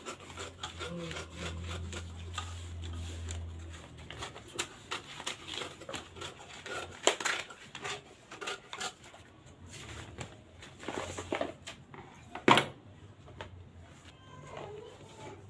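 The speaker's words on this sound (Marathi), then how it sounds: "आता आपण एक्स्ट्राचा जो आपला पेपर आहे तो आपण कट करून घेऊयात" Scissors cut away extra paper from a sewing pattern, giving a run of faint snips and rustles with a few sharper clicks, heard close by in a quiet room.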